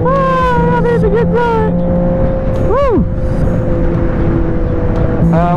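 A car drives along a highway in heavy traffic with a steady road hum and engine drone throughout, while passing vehicles sweep by close at hand and a voice speaks briefly over it.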